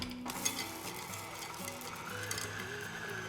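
Pecans and other add-ins being stirred into thick monster cookie dough in a mixing bowl, a steady, soft churning scrape that runs continuously at low level with faint kitchen background.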